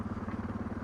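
A Suzuki DR650 motorcycle engine runs with a steady, throbbing low rumble and even pulses, loud and close, in a very brief burst.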